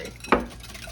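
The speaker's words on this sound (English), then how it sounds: "Get this all mixed up in here." A spoon gives a single quick scrape and knock while mixing apple walnut cake batter with oil in a bowl, followed by quiet.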